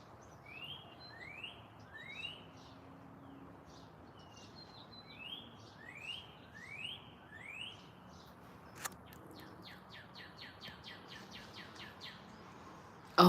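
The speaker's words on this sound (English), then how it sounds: "Hear all the birds?" Small birds chirp outdoors in the morning with repeated short, rising tweets over a soft background hiss, followed by a rapid series of quick chirps near the end.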